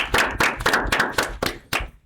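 A handful of distinct, loud hand claps in an uneven rhythm, about seven sharp hits close by, closing a logistics engineering talk with a call for applause.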